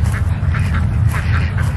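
Homestead ducks being fed in winter quack in a rapid, repeated chorus, close and loud over a low steady rumble.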